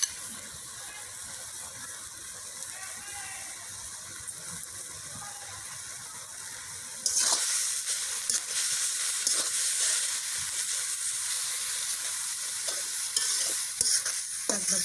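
Shrimp frying in a pan for a Bengali shrimp and banana-stem curry, a low crackle at first that bursts into a loud, steady, hissing sizzle about halfway through and keeps going to the end.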